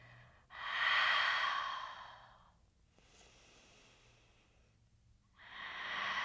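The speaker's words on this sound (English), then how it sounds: "2 deep breaths" Slow, deep breaths during a basic vinyasa yoga flow: a long, close breath near the start, a softer stretch of quiet breathing, then another deep breath beginning at the end, with no talking.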